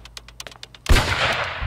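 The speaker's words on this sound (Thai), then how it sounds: "ฮ้ยเสียงปืนนี่" Gunfire from a Thai drama series erupts suddenly after a stretch of quiet ticking clicks, a loud close burst of shots that rattles on without pause to the end.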